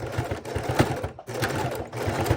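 A sewing machine stitches fabric for a microwave potato bag in a steady, rapid whir, slowing and pausing briefly near the middle before running on, close and clear.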